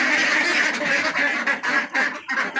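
Ducks near their coop quack in a dense, close, overlapping chorus, loud and continuous with brief dips between bursts.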